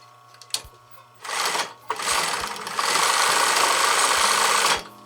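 Sewing machine stitching quilting fabric for a bag holder, heard close up: one short burst of stitching, then a brief pause, then a long, steady, even run that stops abruptly.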